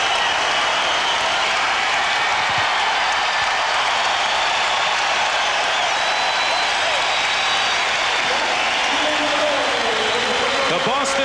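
A packed Boston Garden crowd roars and applauds as the Celtics beat the Atlanta Hawks in the last regular-season game of 1987, a loud, continuous wash of cheering with a commentator talking over it.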